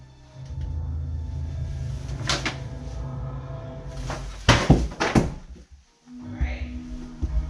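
A GoPro Hero 8 camera tumbling down a flight of stairs, several hard thuds and knocks against the steps in an irregular sequence over a low rumbling background, ending with a sudden stop and a quieter shuffle.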